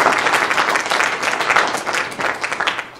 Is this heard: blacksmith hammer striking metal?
no